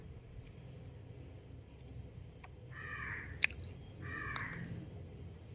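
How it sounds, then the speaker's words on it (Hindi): A crow caws twice in short harsh bursts at a distance, over a low steady background rumble, with a brief sharp click between. "कौवा ना काफ़ी शोर कर रहा है।"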